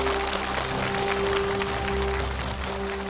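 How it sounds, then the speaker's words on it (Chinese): A studio audience applauds a challenger on a television challenge show, with dense and sustained clapping throughout and a steady musical tone underneath. "我们掌声鼓励一下挑战者"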